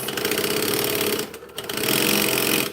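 Sewing machine stitching a straight seam, a fast, rattling, steady hum that pauses briefly midway and then runs on again, close and loud, with no talk.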